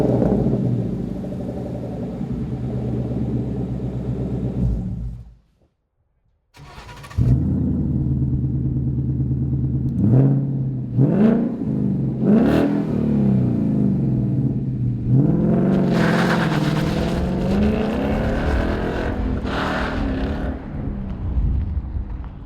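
A 2015-2017 Mustang GT fastback V8 with a Cervini stainless cat-back side exhaust idles with a deep burbling rumble, cuts out briefly, then restarts and revs in several sharp blips rising to a long loud throaty rev, close by.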